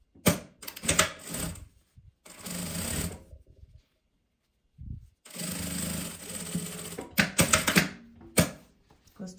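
A sewing machine stitches a seam close to a zipper in quick loud bursts with short pauses and one long silent gap, plus faint handling knocks; no talking.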